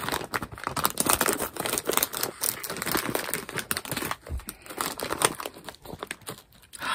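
Scissors cut open a crinkly snack package up close, making continuous rustling, crackling and tearing for several seconds with no talking.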